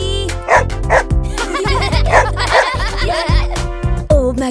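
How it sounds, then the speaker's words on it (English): Cartoon dog barking in an Old MacDonald farm song, several short loud barks and yips set over bright, upbeat music. "And on his farm he had a dog, E-I-E-I-O. With a ruff ruff here and a ruff ruff there"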